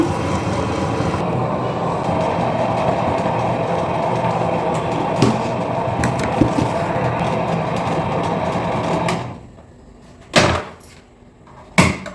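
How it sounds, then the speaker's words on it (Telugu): A wet grinder works soaked grain into idli batter with a loud, steady whirring rumble for about nine seconds. The motor then cuts off, and a few sharp knocks follow in the quieter space. "ఇప్పుడు గ్రైండర్లో ఇడ్లీ బ్యాటర్కి అయితే వేసేసుకుంటాను"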